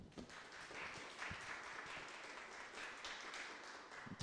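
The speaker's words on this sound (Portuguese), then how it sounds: "Uma salva de palmas para ele" Faint, distant applause from an audience after a lecture, a soft, even patter of many hands clapping with a few sharper claps standing out.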